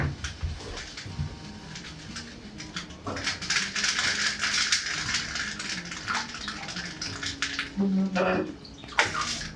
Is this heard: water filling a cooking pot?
yes